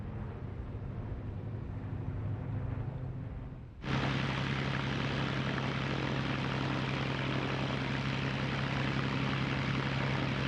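A restored Spitfire fighter bearing Johnny Johnson's JEJ markings roars past with a loud propeller-engine drone that swells suddenly and holds steady and close.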